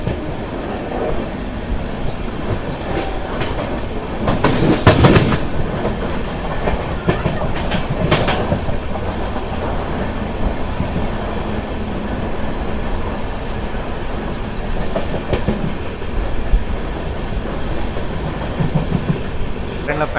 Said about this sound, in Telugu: సో మన ట్రైన్ వచ్చేసి సింగరాయకొండ నుంచి అయితే బయలుదేరిపోయింది.